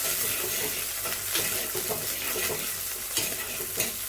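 Steady sizzling and frying in a pan with occasional stirring scrapes, a continuous crackle of greens and onions cooking in oil, no talking.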